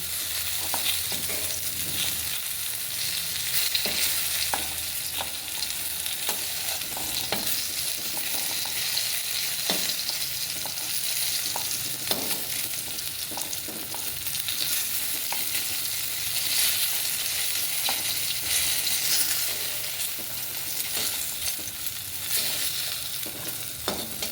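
Eggplant frying in hot oil in a pan for a hilsa fish and eggplant dish, a steady close sizzle running throughout with scattered light clicks from stirring and no talking.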